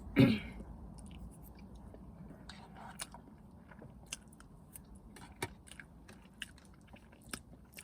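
Someone bites into McDonald's hotcakes with syrup and butter. There is one firm bite at the start, followed by soft, close chewing with scattered small crunchy clicks and mouth sounds.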